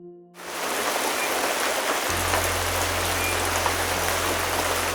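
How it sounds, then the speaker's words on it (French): Steady, gentle rain patters on a sheet-metal roof, a continuous soft hiss with a low hum underneath, no voices. "La pluie douce sur la tôle."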